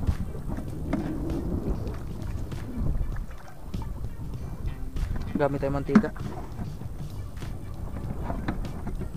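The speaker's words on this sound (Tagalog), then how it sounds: "Mahangin kasi mga kaidolo" Steady wind rumbles outdoors across the whole stretch, with a person talking briefly over it.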